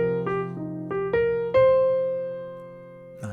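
Played alone and close, a jazz arpeggio steps down and then climbs back up in a few crisp notes, the last one held and slowly fading before a short noisy burst at the close.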